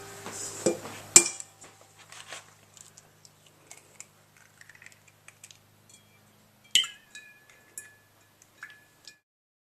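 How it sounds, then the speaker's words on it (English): Eggs being cracked and separated into two containers, with sparse light clinks and taps of shell and dishware, one sharp crack near the start and quieter ticks scattered through an otherwise silent room. "separate the egg white and the egg yolk into two different containers"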